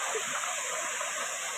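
The Jiripada waterfall pours in a steady broadband rush of falling water, continuous and fairly close, with no voices over it.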